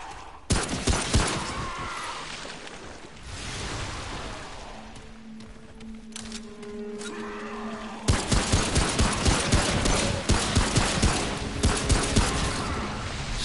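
Gunfire in Remnant: From the Ashes, a loud volley of rapid shots at the start, a quieter stretch with a low droning hum, then dense repeated bursts of shooting through the second half.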